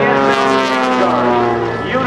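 An aerobatic propeller airplane flying a hammerhead turn at the 2008 AirPower Over Hampton Roads airshow gives a loud, sustained engine drone with a shifting, harmonic-rich pitch as it climbs and pivots, while an announcer talks over it.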